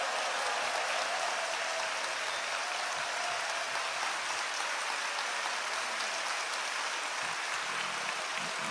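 A congregation standing to applaud during an early-morning service at Yoido Full Gospel Church, dense sustained clapping filling the room, loud and even throughout without speech.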